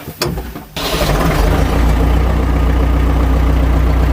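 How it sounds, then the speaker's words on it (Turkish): A car engine cranks briefly, catches and settles into a steady, loud, close idle, heard during a home oil and filter change. "Çalıştır motoru bakayım."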